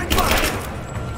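Covering fire crackles in the action game Rise of the Tomb Raider. It is a short, loud burst of rapid gunshots that fades into rumbling echoes, with a voice speaking over it.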